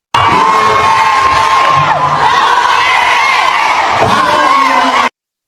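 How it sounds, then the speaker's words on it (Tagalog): A large crowd shouts and cheers for Duterte in loud, sustained whoops and yells that rise and fall together for several seconds before cutting off abruptly. "Pakinggan nyo po yung mga sumisigaw."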